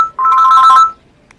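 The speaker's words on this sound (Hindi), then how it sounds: "इसके अंदर पावर ऑफ रिंगटोन्स का ऑप्शन है" A Q E3000 Music mobile phone plays a ringtone: a loud, bright electronic melody of quick repeated notes lasting under a second, alone and close.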